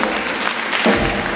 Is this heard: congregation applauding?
yes